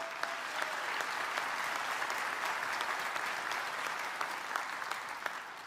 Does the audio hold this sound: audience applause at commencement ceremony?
yes